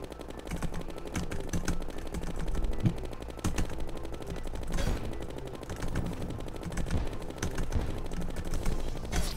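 Rapid gunfire from a ranged weapon during a Duke Fishron boss fight in Terraria with the Calamity mod, a dense, continuous stream of clicking shots layered over game music and effects, steady and loud throughout.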